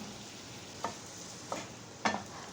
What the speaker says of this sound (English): Mix everything, saute for 2 minutes.